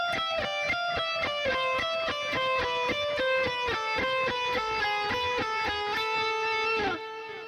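An electric guitar runs a harmonic minor scale pattern ending on an A, each note picked in a steady, even rhythm before a held final note, played alone and up close with no talking.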